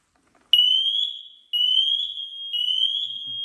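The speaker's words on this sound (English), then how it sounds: "That's a smoke alarm." A ceiling-mounted, mains-powered home smoke alarm with battery backup blares a loud, piercing, steady electronic tone in three long pulses, close by and alone.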